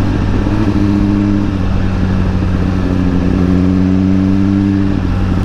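A motorcycle engine runs loudly and steadily close by on a road in Senegal, a low droning hum that shifts pitch slightly as the bike accelerates and eases off, with no voices.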